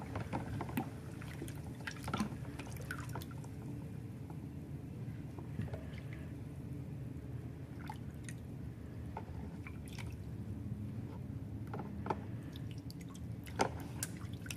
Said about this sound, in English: And then just rinse it.